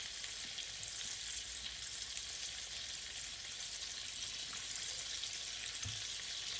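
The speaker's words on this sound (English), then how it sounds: "So I would be frying my fish here now, guys." Red snapper fish frying in a pan for a Guyanese fish curry, a steady soft sizzle and crackle of hot oil with a faint stir near the end, no voices.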